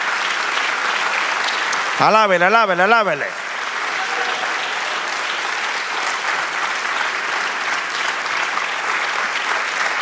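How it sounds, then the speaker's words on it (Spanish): Applause from a church congregation swells into a steady, even patter that fills the whole stretch, with a sung voice rising over it briefly near the start. "Denle aplauso al Señor."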